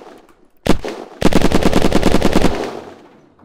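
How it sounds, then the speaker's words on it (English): Automatic gunfire in the video game Unturned aimed at a metal wall: one loud shot, then a fast, evenly spaced burst of about a second and a half that rings out and fades. "So 76 shots to destroy a metal wall."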